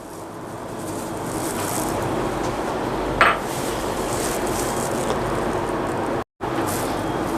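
Metal mixing bowls clatter and clink with one sharp knock while mutton marinade for Hyderabadi dum biryani is moved into a larger bowl, over a steady background hiss.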